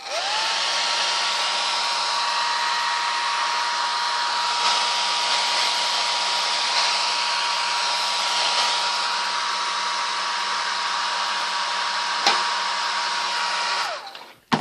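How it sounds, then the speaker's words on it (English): A hair dryer used in alcohol ink painting blows in a steady, loud whoosh with a constant whine for about fourteen seconds, then clicks off abruptly. "And I love my hair dryer. It's like my favorite tool, so hang on."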